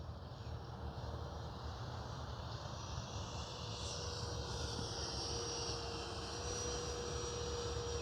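An FMS F-16 64mm RC jet flying overhead, a continuous whooshing ducted-fan roar with a slowly shifting pitch, steady and fairly loud, no talking.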